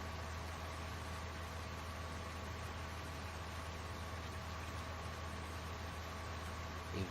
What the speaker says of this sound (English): Notice it raining, you also just hear thunder in the background as well.